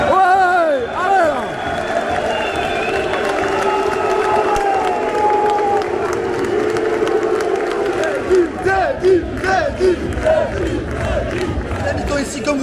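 A football crowd at an Union Saint-Gilloise versus Rangers match cheers and applauds goal scorer Teddy Thomas, a loud sustained roar with shouts rising and falling and scattered clapping through it.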